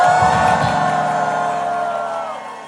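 A large outdoor crowd at a busking concert in Namyangju cheers, whoops and applauds in a loud, dense roar that slowly fades toward the end.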